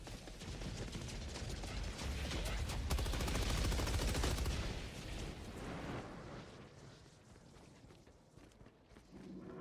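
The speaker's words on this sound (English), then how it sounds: "SMG with the new suppressor changes is pretty good." Sustained automatic fire from a suppressed SMG in the video game Helldivers 2, a dense continuous rattle with battle noise that swells over the first half and then tapers off, with no voices.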